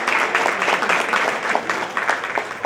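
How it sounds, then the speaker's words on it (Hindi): Steady crowd applause at a statue unveiling ceremony for Yogacharya Padmashri Sadashiv Nimbalkar, dense overlapping claps holding at an even level throughout. "जोरदार तालियां"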